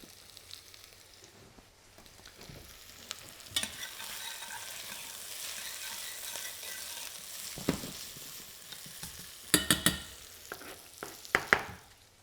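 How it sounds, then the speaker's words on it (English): Chickpea curry ingredients fry quietly in a pan with a soft, steady sizzle, punctuated by sharper scrapes and clatters of stirring that grow more frequent toward the end. "that's where you need to stir them to encourage them to caramelise"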